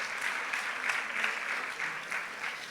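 Brief, steady applause from a church conference audience, a soft, even wash of many hands clapping at moderate distance, heard on its own.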